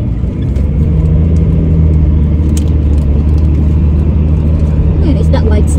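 A car drives along a road with a steady, loud engine rumble and constant road noise throughout, while people talk inside the vehicle.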